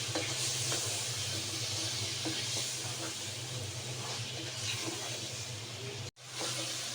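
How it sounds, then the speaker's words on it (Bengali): Spices for haleem are mixed and fried in a pan, making a continuous close sizzle with a low steady hum beneath, broken by one brief dropout near the end. "আমার এখন ভালোভাবে আমি মিক্স করে নিব মশলাটা"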